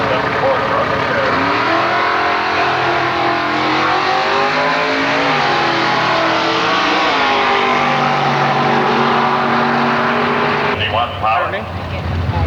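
A 1927 Ford Roadster drag car at Milan Dragway revs loudly, its engine note rising and shifting, with a loud announcer speaking over it and a sharp change in the noise near the end.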